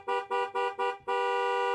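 A car horn in the video game Cabernet honks four short blasts in a quick rhythm, then holds one long continuous blare, loud and clear.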